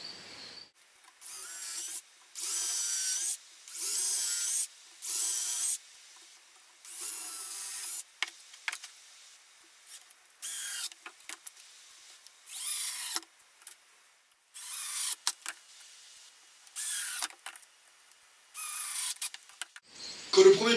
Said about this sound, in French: avant de visser, de faire des pré-trous pour éviter que le bois se fende